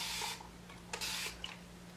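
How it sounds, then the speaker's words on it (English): A few quick hissing bursts of rose water sprayed onto hair roots close by over a steady low hum, with soft rubbing between them. "So what I do, I just spray my little rose water."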